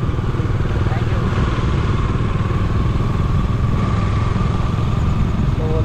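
A motorcycle engine idles close by, a loud, steady, even rumble that holds unbroken from start to finish.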